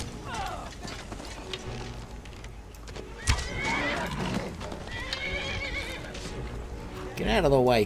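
A horse whinnies loudly near the end in Skyrim, preceded by game sound effects and clattering hooves, with voices talking throughout.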